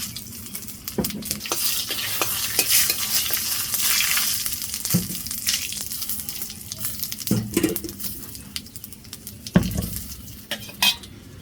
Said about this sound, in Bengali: এখন এই যে কড়ার মধ্যে এখন সর্ষের তেল দিয়ে দিব শুকনামরিচ তেজপাতা দিয়ে দিব গোটা জিরে দিয়ে দেবো